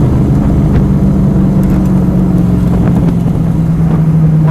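A 1964 Cobra 289 USRRC/FIA replica roars steadily as its V8 is pushed hard under acceleration in second gear. The engine note is loud and continuous from up close, with a deep rumble throughout.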